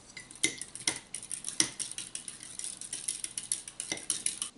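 Eggs are beaten in a bowl for a lotus flower cake: a utensil clinks and scrapes against the bowl in quick, irregular strokes, close and fairly crisp, with no talking.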